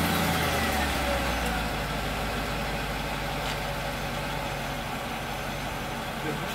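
A repaired Mercedes ML430 V8 engine runs at a steady idle, a continuous close, low hum with some broadband noise, while a voice speaks faintly under it.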